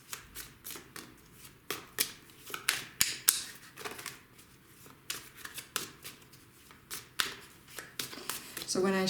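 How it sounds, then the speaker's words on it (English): Tarot cards are shuffled by hand in quick, irregular bursts of papery riffling and slapping, close and clear, with a short rapid flutter near the end. "when I shuffle during a reading and too many cards fall out"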